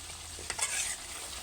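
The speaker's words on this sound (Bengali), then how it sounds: "এখানে দেখেন মশলাগুলো কিন্তু আমি কষিয়ে নিচ্ছি সুন্দরভাবে" Spices frying in oil in a pan make a quiet, steady sizzle with a short scrape of stirring in the middle, brief and close.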